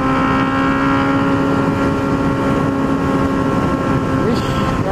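A Honda Hornet motorcycle engine drones steadily right after a downshift, loud and close, with a sustained tonal hum, wind rush over the microphone and a rider talking along the ride.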